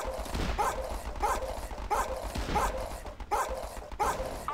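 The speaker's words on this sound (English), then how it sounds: "Little doggies." Small dogs in the Battle Islands: Commanders game bark in a regular repeating pattern, six or seven short yapping barks spaced evenly at moderate volume.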